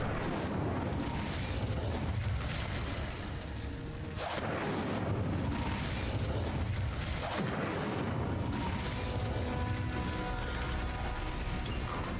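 Incendio fire spell blasts erupt in Hogwarts Legacy, roaring whooshes and booming bursts layered over dense, continuous combat noise, loud and close with two sharper impacts standing out.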